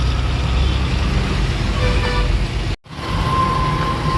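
Heavy road traffic surrounds a two-wheeler ride, a constant loud roar of engines and wind with a brief cutout near the end, then the rumble resumes.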